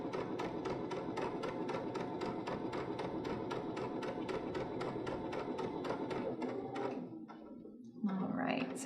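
A sewing machine runs a long steady stretch of gathering stitches through fabric, its rapid even needle rhythm close and continuous before stopping near the end, followed by brief handling noise.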